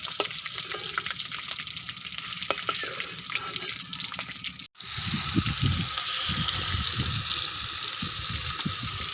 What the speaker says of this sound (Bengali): বাকি চিকেনগুলো একই রকমভাবে ভেজে নেব